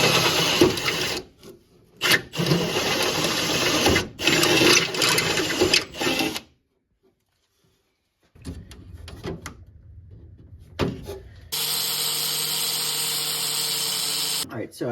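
A power tool cuts threaded rod for a 1981 VW Rabbit Pickup diesel swap, running in several harsh buzzing bursts broken by silent pauses, followed by a steadier whining run near the end.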